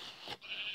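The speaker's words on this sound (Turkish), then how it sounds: "Koyun bana bak." A sheep on a farm lets out one brief, nasal bleat, close by and moderately loud over a faint hiss.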